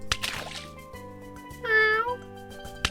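Wildcats meowing in a video game, a short bright cat cry rising above game music and splashy effects, with a brief burst near the start.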